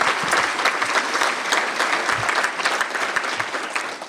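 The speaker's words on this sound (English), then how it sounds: "ça vaut juste une main d'applaudissements" Audience applause at a symposium marking the 50th anniversary of the Official Languages Act, a steady, dense clapping from a large crowd filling the hall without letup for the whole stretch.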